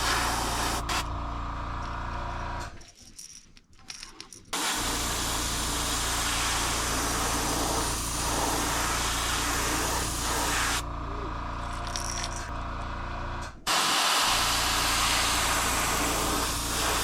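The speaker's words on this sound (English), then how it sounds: "I don't want to spray this heavy, so I'm gonna have to do this from a distance" Aerosol spray paint misted lightly from a distance onto a custom painted fishing lure, a loud continuous hiss held in long bursts with two short pauses between passes.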